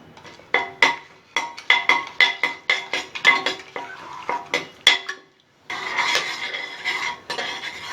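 Whole spices sauté in a pan: bay leaf, fennel seeds, cinnamon, cloves and star anise. A metal spoon clinks and scrapes against the pan in a quick, steady rhythm, then a softer sizzling stir follows after a short pause.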